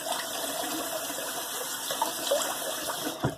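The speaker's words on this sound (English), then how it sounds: "now let's do another rinse" Water runs steadily from a tap for rinsing during a wet shave with a 1950s GEM SE Contour II razor, a continuous close gushing flow with no talking.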